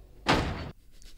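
A door slams once, a sharp loud thud lasting about half a second, followed by quiet.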